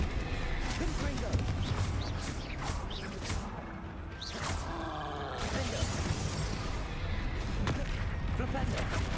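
Fire spell blasts in the video game Hogwarts Legacy, repeated booming explosive impacts and crackling crashes over dense continuous game combat noise, with a voice speaking at times.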